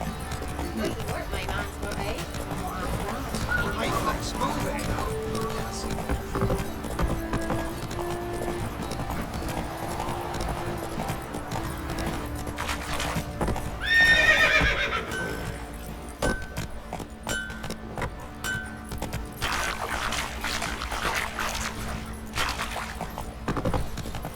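A horse gallops in The Witcher 3 video game, rhythmic clip-clop hooves under game music and ambient sound, with a brief whinny-like cry midway and a voice talking at times.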